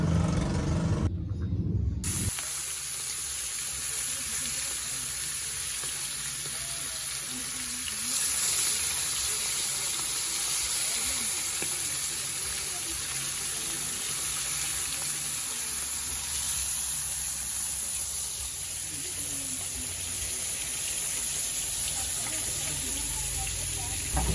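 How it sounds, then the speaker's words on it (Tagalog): Tilapia and milkfish (bangus) frying in oil, giving a steady close sizzle and hiss that runs throughout, with a brief break near the start. "At syempre, piprituhin na lang natin siya para mabilis."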